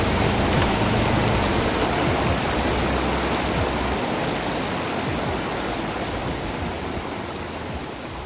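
The Umngot river near Shnongpdeng village in Meghalaya rushes in a steady, dense wash of flowing water, constant and close, with no voices over it.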